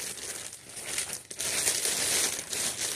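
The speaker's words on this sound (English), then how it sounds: "let me go ahead and throw it back in its plastic bag real quick" A plastic bag crinkles and rustles as a ceiling fan motor is slipped back into it, soft, close crackling with a brief pause midway, quiet throughout.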